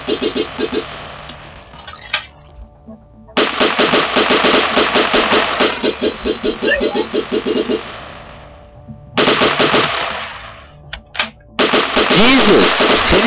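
Gunfire in an online shooter video game: loud rapid-fire automatic bursts, several in a row, separated by short pauses, with sharp, closely spaced shots.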